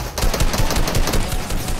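A rapid burst of automatic gunfire from a newly acquired weapon in a video game, with dense, continuous shots rattling loudly and close for the whole stretch.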